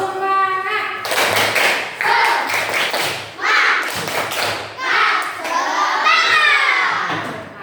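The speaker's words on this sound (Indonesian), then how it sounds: "tepuk semangat dulu biar tambah semangat" A group of children doing a rhythmic spirit clap in a classroom, bursts of patterned clapping and thumps mixed with loud chanting and shouting voices.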